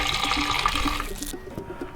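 A cup of water poured into an almond milk mixture, a continuous close splashing trickle lasting over a second before it thins out to quieter drips.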